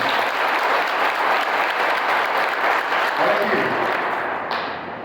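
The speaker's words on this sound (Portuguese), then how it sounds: "Vamos aplaudir mais uma vez." Sustained applause from a church congregation, dense and steady clapping that tapers off at the end.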